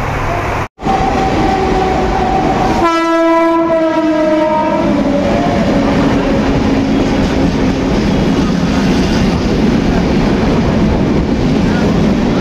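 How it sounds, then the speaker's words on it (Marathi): A train pulls into a busy station and sounds a loud horn that blares and slides downward, then wheels and carriages rumble and roll past steadily close by. "बघू शकता ट्रेन आलेली आहे."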